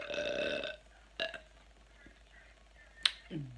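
A loud, drawn-out burp from someone eating a crunchy salad opens the clip, followed by a few sharp clicks and a short low rumble in an otherwise quiet room.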